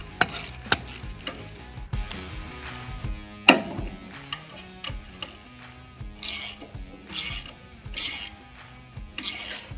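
Ratchet clicking while the two bolts holding the kickstand to the underside of an M8 Softail frame are loosened, with irregular bursts of clicks and metallic clanks close up, no talk.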